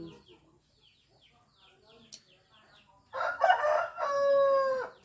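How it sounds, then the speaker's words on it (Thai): A rooster crows once, loud and drawn out, in the second half after a quiet stretch with faint background sounds and a little soft talk. "ไก่ละเด้อพี่น้อง"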